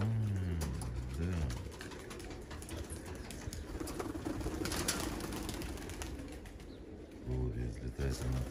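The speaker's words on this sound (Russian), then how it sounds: "Голубь взлетает" A pigeon takes off outdoors with a brief burst of flapping wings, followed by quieter ambient sounds and faint bird calls.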